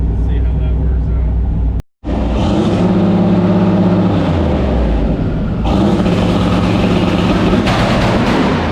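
A turbocharged LS V8 in an El Camino runs on a dyno with two-step launch control, holding a loud, harsh, popping rev that drops out briefly, then roars back and stays strained and close.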